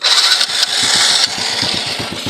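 A motorcycle engine starts and settles into a loud, close, steady running note with rhythmic low pulses, with no voices over it.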